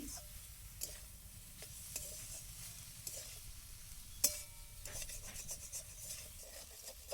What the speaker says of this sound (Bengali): তো দেখুন আমি বেশ ভালো করে নাড়াচাড়া করছি